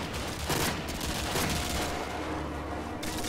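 Sustained gunfire rattles through a Call of Duty: Modern Warfare 2 battle in the Contingency mission, dense overlapping bursts and booms filling the whole stretch at steady, loud intensity with no pauses.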